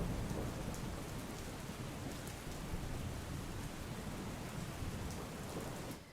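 Heavy, steady monsoon rain pours down continuously on Ahmedabad, India, streets flooding knee-deep, a dense wash of noise with occasional low rumbles, constant and loud throughout.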